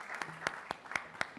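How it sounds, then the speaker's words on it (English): A few people in a Cannes press conference room give sparse, spaced claps in a slow, uneven rhythm. The claps are moderately loud against quiet room tone. "they deserve a round of applause"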